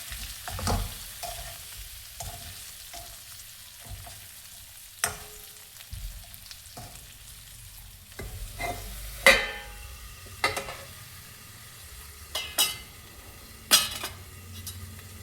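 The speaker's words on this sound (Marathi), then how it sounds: "या सावजी मसाल्यामध्ये ही भाजी सोडून द्यायची, कमी आचेवरती मसाल्यामध्ये होऊ द्यायची." Fish frying gently on low flame in Nagpuri Savji masala, giving a soft continuous sizzle broken by occasional stirring scrapes and light clinks of a utensil against the pan, close and fairly quiet.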